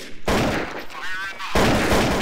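Gunfire in Counter-Strike: Source, two loud, close bursts of shots separated by a quieter gap with a player's voice.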